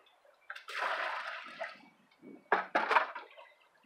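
Water poured from a small bucket into mortar mix in a bucket, a close splashing pour followed by a couple of short sloshing dumps.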